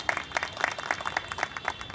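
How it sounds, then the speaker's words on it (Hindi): Brisk applause from a crowd at a neighborhood residents' association meeting with police officers in Tilak Nagar, a steady patter of many hands clapping together for about two seconds with no voices over it. "जोरदार तालियां एक बार।"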